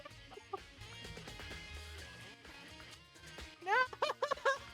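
Chickens cluck in the video game Danganronpa, first scattered soft clucks under background game music, then a burst of several loud, rising bird calls near the end.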